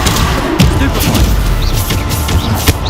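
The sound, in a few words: Stupefy spell cast in video game Hogwarts Legacy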